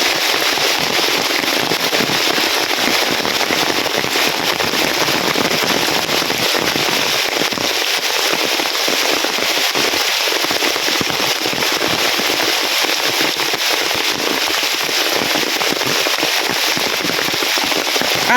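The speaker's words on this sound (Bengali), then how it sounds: "প্রচুর পরিমাণে বৃষ্টি আছে" Heavy rain pours down in a village, a dense, loud, crackling hiss of drops beating on surfaces that holds steady and unbroken throughout, with no talking.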